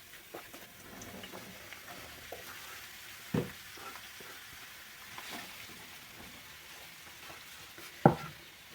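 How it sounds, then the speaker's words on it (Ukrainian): Onions sizzling softly in a pan, a steady low frying hiss with a couple of sharp clinks of a utensil against the pan. "Поки цибуля жарится"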